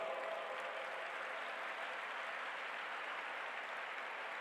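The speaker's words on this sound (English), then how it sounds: "With a big round of applause, please welcome Dr. Alok Srivastav" A large audience at the G20 Interfaith Summit applauds to welcome Dr. Alok Srivastav, a steady, even wash of many hands clapping at a distance, sustained without a break.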